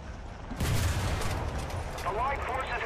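A tank cannon in War Thunder fires with a heavy boom near the start, followed by a rumbling, noisy battlefield din that carries on for several seconds. No one speaks.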